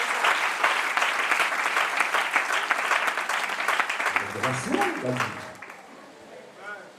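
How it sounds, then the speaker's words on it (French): A church congregation claps together during a Sunday worship service, sustained applause rising steadily while a preacher's voice carries over it and continues speaking as the clapping fades toward the end. "Acclame Jésus"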